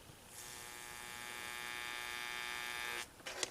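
An electric etching marker hums steadily for about three seconds as it marks a fillet knife blade through a stencil, a faint, even buzz that stops abruptly and is followed by a few small clicks.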